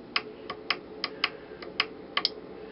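A relay in a combination lock circuit gives sharp, quiet clicks spaced at irregular intervals, about ten in under three seconds, over a faint steady hum with no talking.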